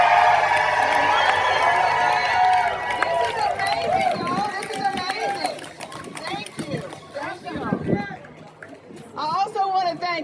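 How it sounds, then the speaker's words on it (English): Outdoor protest crowd at a free-speech rally cheering loudly for the organizers, a dense sustained roar of shouts and whoops that thins into scattered yells and chatter, with a voice rising over it near the end. "Can I get a cheer for the people who organized this protest?"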